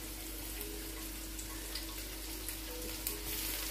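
Leek and celery hit a hot pan of sizzling garlic, giving a steady, moderate frying hiss with a low constant hum underneath and small crackles throughout, without any voices.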